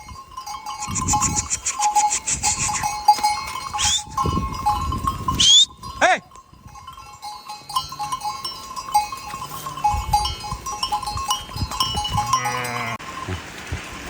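Lambs bleat repeatedly amid a noisy farmyard, with a clanking bell and scattered movement sounds throughout.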